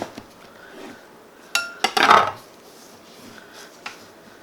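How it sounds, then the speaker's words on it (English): A knife cuts orange quarters into wedges on a board, giving a short burst of clattering, knocking contact sounds at close range with faint clinks before and after. "from there you slice the oranges into wedges, however thick you need"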